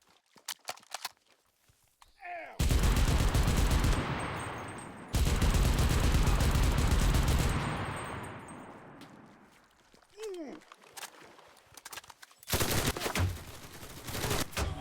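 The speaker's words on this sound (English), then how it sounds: "I didn't really want to use a gun, but..." Bursts of loud automatic gunfire in the video game CRSED, two long sustained volleys and a later shorter burst, separated by quieter gaps with footsteps and scattered clicks.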